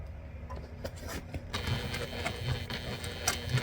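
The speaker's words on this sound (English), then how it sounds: "we're just going to go ahead and sew this with a 1/4 inch seam allowance" A sewing machine stitching a 1/4 inch seam on bias binding, a soft, rapid mechanical whir with a steady ticking pulse that picks up after a quiet start, close and fairly faint, no talking.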